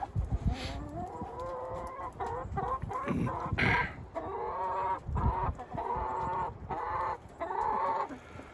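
Several free-ranging chickens and roosters cluck and squawk continuously, close by, with overlapping calls and short bursts throughout.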